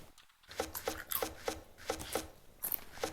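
Wood chopping in the town-building game Towns: a steady string of crisp, regularly spaced hacking knocks, about three per second, close and moderately loud with no talk over them.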